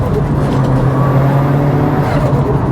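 A Mitsubishi Evo 9 four-wheel drive car drives along a back road, its engine a steady, loud low drone heard from inside without a break for nearly three seconds.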